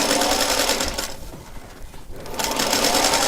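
A sewing machine stitches a quarter-inch seam on a Churn Dash quilt block, whirring loudly and steadily, pausing briefly in the middle before running on again.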